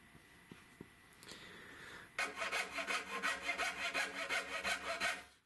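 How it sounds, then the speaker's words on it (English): A hand saw cuts through two glued-together sheets of 1/4-inch plywood, starting with a few light taps and scrapes, then settling into a quick, even run of rasping back-and-forth strokes, close and alone. "I'm cutting through both pieces."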